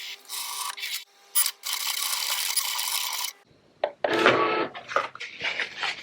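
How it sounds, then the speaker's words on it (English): A small piece of Smart Removable Vinyl is cut off, giving scratchy, rasping cutting and rubbing bursts that stop and start with short quiet gaps between them. "So I just cut a little piece of the Smart Vinyl off."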